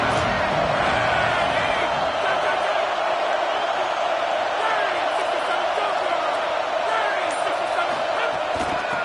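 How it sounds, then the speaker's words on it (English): Football game crowd cheering on third down in the final quarter, a dense continuous roar of voices filling a stadium with no pauses. "the crowd really getting into it"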